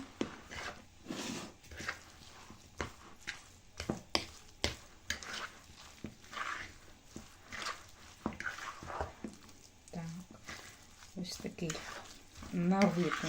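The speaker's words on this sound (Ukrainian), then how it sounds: "Так, все добре перемішуємо." Homemade eggs and cottage curd are stirred in a bowl for a cottage cheese casserole, with steady rhythmic scraping strokes close up and a voice talking now and then.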